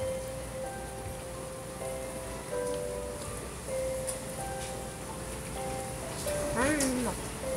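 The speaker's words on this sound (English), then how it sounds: "Look, and you see the rain coming down." Steady rain falls during a windy thunderstorm, a constant hiss of drops on surfaces, with faint tonal sounds and a brief higher sweep near the end.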